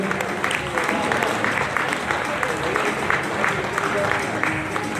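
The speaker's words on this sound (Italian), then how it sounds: "Applauso." An audience at a regional Miss Europa beauty pageant final in Veneto claps in sustained, even applause for several seconds, dense and steady without voices over it.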